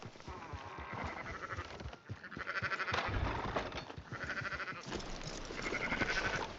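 Sheep bleating in Red Dead Redemption 2, a flock calling repeatedly in overlapping, wavering bleats at moderate loudness, with faint game ambience underneath.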